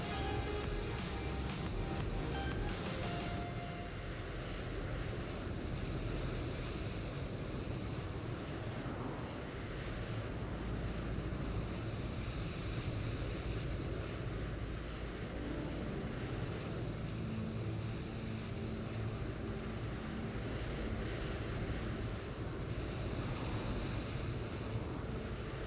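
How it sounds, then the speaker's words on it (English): Loud, steady jet engine roar from a Boeing 787 in Microsoft Flight Simulator, a constant broadband drone with a faint high whine running unbroken throughout. "Only can take so much engine noise."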